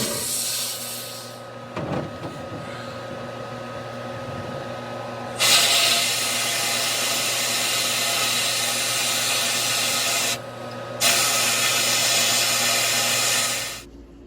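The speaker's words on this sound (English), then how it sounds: "We did use the walnut shells to sandblast or blast the carbs." Walnut shell media blasting vintage carburetors from a 1992 Banshee, a steady loud hissing air blast that starts and stops in long bursts, with brief gaps between them.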